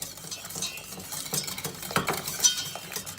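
A utensil stirs a sauce in a pot, producing quick scraping clinks and soft splashy patter in an uneven rhythm, close and moderately loud.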